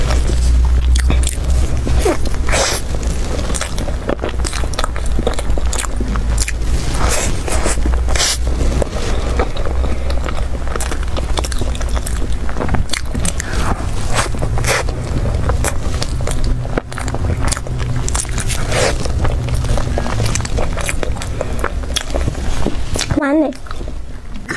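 Crunchy lemon cookies being eaten up close in an ASMR setting, with dense, steady biting and chewing crunches running throughout over a low background rumble.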